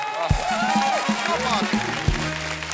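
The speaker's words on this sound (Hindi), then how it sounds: "उनके लिए जोरदार तालियां हो जाए" A studio audience at a television comedy show breaks into loud applause that runs steadily for about three seconds, with voices and bright tonal sounds layered over the clapping.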